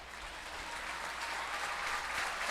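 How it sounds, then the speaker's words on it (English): Crowd applause at a minor league baseball game between the Somerset Patriots and Reading Fightin Phils, a soft, distant wash of clapping that swells slightly. "As there's a nice round of applause from the crowd here in Baseball Town"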